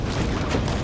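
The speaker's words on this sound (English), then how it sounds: "Throw the frag grenade!" A frag grenade detonates in Warhammer 40000: Space Marine 2, a dense, loud, rumbling blast that fills the whole moment with low booming energy and crackling debris.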